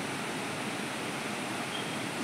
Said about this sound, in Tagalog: Malakas yung falls.